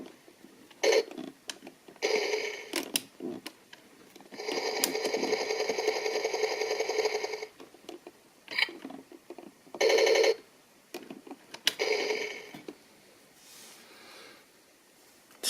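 Electronic sound effects from an old Hasbro G.I. Joe action figure toy, still working after many years: repeated bursts of buzzy, whirring tones in short and long blasts with brief gaps, fairly close and loud, no talking.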